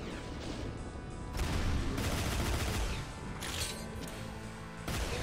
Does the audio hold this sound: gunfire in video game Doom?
yes